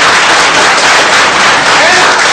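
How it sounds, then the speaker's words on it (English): Audience applause at the end of a technical talk on SQL Server, a loud, dense, continuous wash of many hands clapping throughout, close and without any voice over it. "And clap for people for that"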